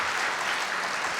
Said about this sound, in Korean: 두 분 위해서 다시 한번 크게 박수하겠습니다.